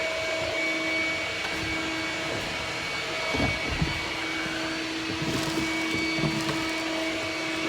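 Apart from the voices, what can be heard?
vacuum cleaner sucking debris out of a 1978 Chevy Camaro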